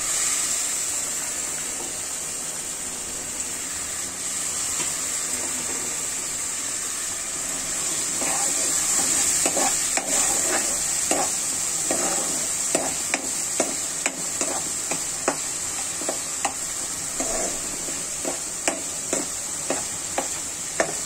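Dried loitta fish frying in a pan, with a steady sizzling hiss throughout and a run of sharp scraping stirs and spatula taps that grow more frequent in the second half.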